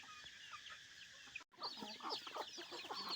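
Chickens clucking continuously in a busy flock, close by, with overlapping short calls and chatter; a brief gap interrupts midway before the clucking resumes.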